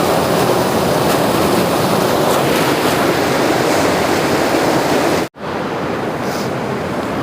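Ice-cold river water rushing at Yamunotri, a loud, steady roar of torrent noise that fills the whole stretch without letup, broken only by a brief dropout near the end.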